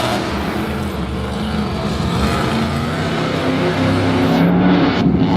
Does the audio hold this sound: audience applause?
no